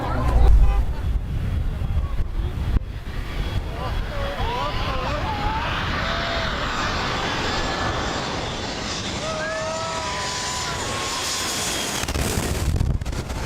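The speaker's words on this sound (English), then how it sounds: "A Bell 206 Long-Ranger helicopter crash was caught on video, capturing the dramatic moment it went down." A Bell 206 Long-Ranger helicopter going down in a crash, its engine a steady, moderately loud drone with wind buffeting throughout; a voice speaks briefly over it.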